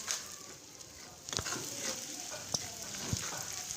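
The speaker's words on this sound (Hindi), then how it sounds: "इसे भी अच्छी तरह 1-2 मिनट के लिए इसे भी इसी तरह फ्राई करेंगे।" Ginger frying in hot oil for chicken keema, a soft continuous sizzle close by, with a few light clicks and stirring scrapes scattered through it.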